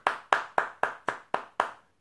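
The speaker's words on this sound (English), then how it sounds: "let's give a big round of applause to number one Wall fan" Hand claps at a small live show, seven evenly spaced sharp claps from a single nearby source, no speech, fading out at the end.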